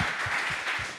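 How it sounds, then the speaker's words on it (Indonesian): Audience clapping at a fitness talk, a brief burst of applause with a few distinct near claps standing out from the wash. "Tepuk tangan sekali lagi ya."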